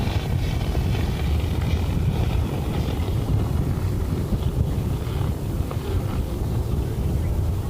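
A competition model airplane's motor flies into a headwind, a faint distant drone buried under heavy steady wind noise.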